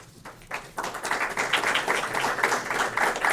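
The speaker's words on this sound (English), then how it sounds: "I never get an applause for the superintendent, but I appreciate it" A room full of people at a board of education meeting breaks into applause, starting with a few scattered claps and quickly filling into steady, dense clapping that holds at an even level close by.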